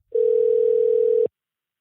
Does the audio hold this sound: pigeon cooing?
no